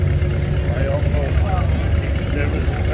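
An Oliver 60 narrow-front antique tractor of about 2,500 pounds running at a tractor pull, its engine giving a loud, steady low drone with a chugging putter throughout.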